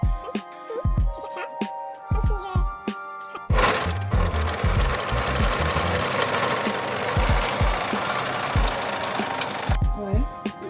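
A sewing machine stitches a garment in a loud, steady run that fills the middle of the clip. Brief whirring bursts and clunks come before and after it, with a person speaking in the gaps.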